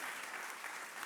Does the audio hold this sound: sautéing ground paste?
no